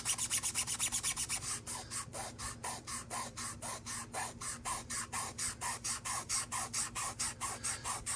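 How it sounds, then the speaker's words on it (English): Hand sanding over a coat of Gaahleri Kaleido primer gives quick, even back-and-forth scratchy strokes, close and fairly soft, in a steady rhythm of around three rubs per second with no voices. "I wanted to see if the primer itself is sandable"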